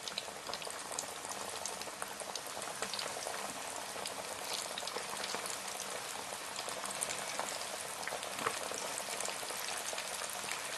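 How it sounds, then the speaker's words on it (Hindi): Chicken wings for honey BBQ wings frying in a pan of oil, a steady dense crackling sizzle that holds evenly throughout, with no voices. "अब मैं इसके अंदर जो है ये विंग्स जो है डाल दूंगा 1 बाय 1।"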